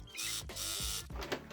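A sewing machine stitches a seam on a homemade fabric face mask, giving short close mechanical whirring bursts with brief pauses between them.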